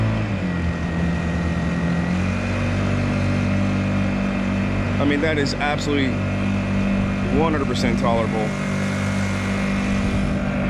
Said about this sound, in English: I cannot believe how smooth this engine and boat perform together.